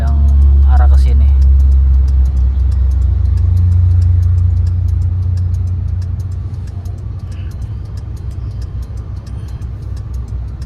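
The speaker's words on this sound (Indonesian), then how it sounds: "Ini banyak tuh mobil yang arah ke sini." Cars pass along a busy, congested road heard from inside a tronton wingbox truck, with a loud low engine rumble up close that eases off after a few seconds, and no talk.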